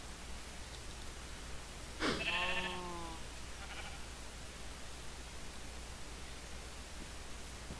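A single sheep bleat from the Minecraft video game, wavering and fairly clear, rises out of steady background hiss.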